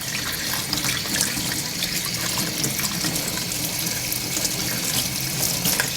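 Tap water runs steadily and loudly while a removable rice cooker part is rinsed under it, a continuous broadband splashing rush with faint drips and no voices.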